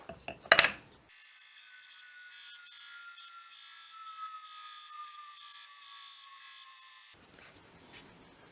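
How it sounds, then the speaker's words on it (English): Bench grinder shaping a handle for a wakizashi-style sword made from a hardware store file, a sustained steady whine with a gently falling pitch lasting several seconds, framed by brief clattering handling noises before and after. "let's go over here to the grinder and get this ground down"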